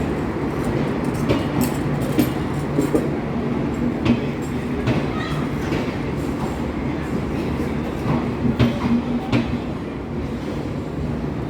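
A train rolls through Chatmohar railway station in Pabna, a loud continuous rumble with rhythmic wheel clatter and occasional squeals, voices talking faintly under it.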